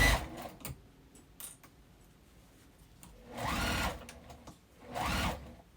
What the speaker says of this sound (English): now I'm going to start sewing that right where, at the beginning